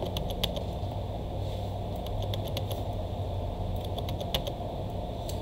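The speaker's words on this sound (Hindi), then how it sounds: "अब आवाज सुन पा रहे होंगे कि मैं कितनी दफा क्लिक कर रहा हूँ" Computer keys pressed repeatedly in quick clusters of sharp, close clicks, with a steady low hum of a fan or background noise underneath.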